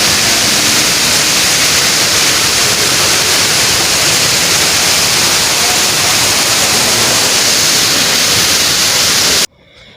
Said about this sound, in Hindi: इस वाटरफॉल का मज़ा आ रहा था जब इसके पास खड़े होने में